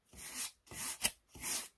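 Sandpaper rubbing long-fibered paper on a model rocket tube, three evenly spaced back-and-forth rasping strokes, close and fairly loud, with short pauses between them and nothing else heard.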